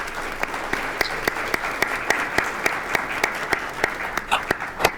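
Audience applause at a cystic fibrosis conference workshop session, a steady wash of clapping with sharp individual claps standing out and a few cheers, sustained throughout.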